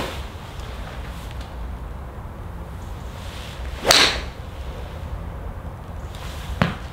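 Golf iron with a Dynamic Gold S300 steel shaft swung to strike a golf ball, giving a sharp whoosh-and-impact crack near the middle and a fainter second hit at the end, over steady outdoor background noise.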